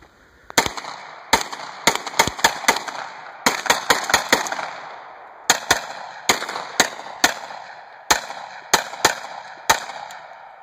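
A Kel-Tec Sub 2000 rifle in Smith & Wesson .40 caliber fires about twenty sharp, loud shots, singly and in quick clusters, with pauses between groups, each crack trailing a short outdoor echo.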